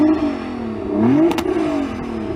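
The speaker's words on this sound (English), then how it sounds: "Hey Jürgen, go on, rev up your car." A heavily modified Nissan GT-R with a V6 engine revs once at a standstill, its note rising to a peak and dropping back to a rumbling idle, close and fairly loud.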